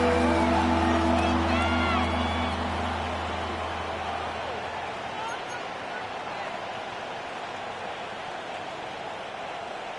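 A video-game football stadium crowd roars on third down between the Giants and Raiders, a broad distant wash of cheering under a sustained horn-like tone at first, then settling into a steady murmur while a commentator talks over it.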